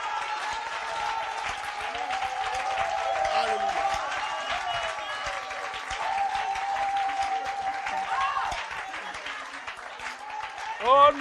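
A church congregation claps and cheers in a long wash of applause under singing or a sustained tone, with a voice rising briefly near the end.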